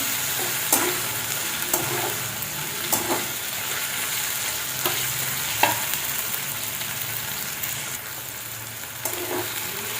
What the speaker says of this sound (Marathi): टोमॅटोचा गाळा होईपर्यंत आपल्याला हे परतत राहायचं आहे